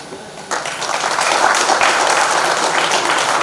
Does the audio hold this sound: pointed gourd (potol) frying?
no